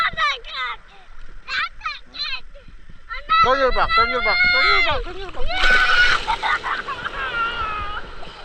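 Sea waves wash in on a beach at a family resort in Real, Quezon, with broad splashing surges in the second half while children and an adult talk and call out close by.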